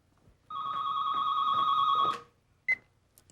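A telephone rings once in a steady electronic tone lasting about a second and a half, close and clear in a quiet room, followed by a brief click.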